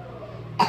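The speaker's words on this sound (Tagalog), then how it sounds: "Ah, sige nga, umubo ka." A single short cough from a person, sharp and close, after a moment of quiet.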